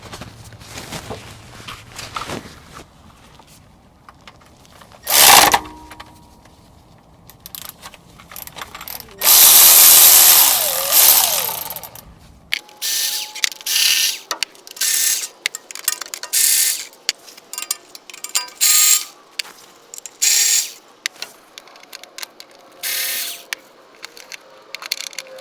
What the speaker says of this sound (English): We're just removing fasteners.